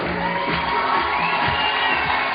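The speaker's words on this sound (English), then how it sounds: "Massive crowd here in Innsbruck." A large crowd under a big tent at the 2012 Boulder Climbing World Cup finals in Innsbruck, Austria, roars and cheers in a steady, dense wash of noise with scattered shouts and whoops throughout.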